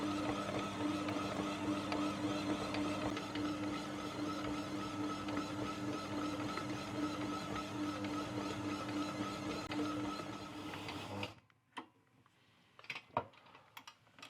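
Stand mixer kneading bread dough for a lidded-tin sandwich loaf, a steady mechanical hum with a faint rhythmic ticking that runs continuously, then cuts off near the end, leaving a few soft clunks in quiet.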